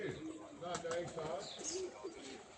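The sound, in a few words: pigeons cooing before a flight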